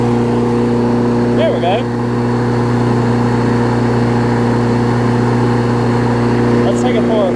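A Yard Man OHV big wheel push mower engine runs steadily and loud close by, idling a touch fast with a constant droning hum; someone talks briefly over it.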